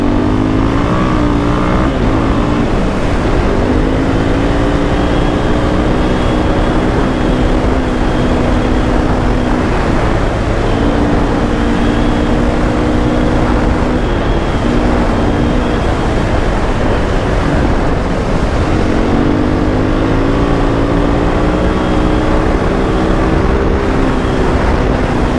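A KTM 500 dirt bike races fast across beach sand, its engine droning loudly and continuously while the pitch rises and falls with repeated throttle changes.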